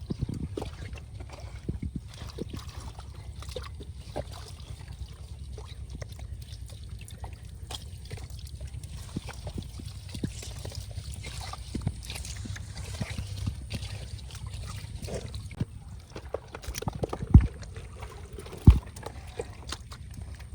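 Water sloshing and pouring as a small boat is bailed out in a village pond, a steady low wet churning throughout with a few sharper splashes and thumps near the end, no talking.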